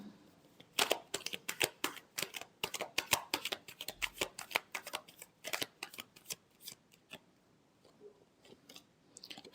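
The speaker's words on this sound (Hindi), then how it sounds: "Last shuffle." Tarot cards being shuffled by hand, a quick run of crisp riffling flicks and slaps close up, dense at first and thinning toward the end, with no talking.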